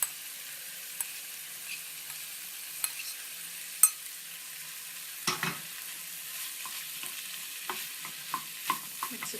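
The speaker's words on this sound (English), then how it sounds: "Mix it all together." Squid, fresh French tarragon and firm couscous stirred together in a pan: faint continuous scraping and shuffling, with occasional soft knocks and clicks of the utensil, close but quiet and with no voices.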